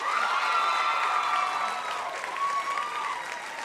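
Steady, loud applause from a pageant crowd at Mrs. United States 2015, thick clapping with a few cheers and voices woven in, holding evenly from start to finish.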